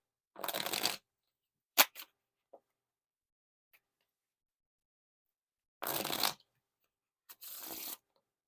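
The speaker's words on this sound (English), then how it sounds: "And now time for the riffle shuffle or bridge shuffle." Two separate bursts of Bicycle Sparrow HanaFuda playing cards being riffle shuffled, each a quick crisp fluttering rush, with small clicks and taps between them in a quiet room.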